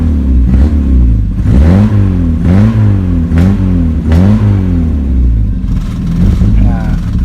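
The engine of a modified 1976 Toyota Corolla idles and revs in rising and falling surges, close and fairly loud, with a voice talking over it.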